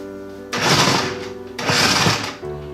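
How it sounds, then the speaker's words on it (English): A food processor pulses egg yolks with powdered sugar and fine salt, giving two loud motor whirs of about a second each with a low hum between them. "We're just going to pulse these egg yolks first."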